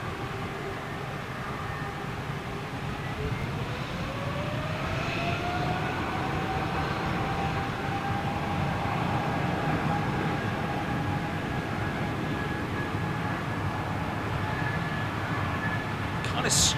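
Jet engines spool up at London Gatwick in a long, rising whine climbing steadily over a broad, continuous rumble, sustained and fairly loud throughout.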